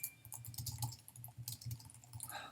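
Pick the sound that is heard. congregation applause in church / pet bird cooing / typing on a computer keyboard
typing on a computer keyboard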